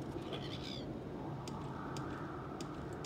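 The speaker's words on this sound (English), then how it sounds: "Oh, I hear more birds." Birds calling in the Morrowind video game, a few faint chirps early on, then sparse clicky calls over a steady low ambient background.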